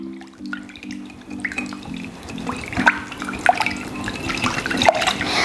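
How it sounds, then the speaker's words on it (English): Wet vegan cherry cake batter with maple syrup, vanilla and orange extract being whisked in a bowl: irregular light clicks and wet ticks that build in density after a low hum at the start, with no talk. "Now I'm going to give it a little whisk."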